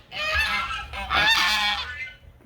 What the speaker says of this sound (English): Goose Patrol.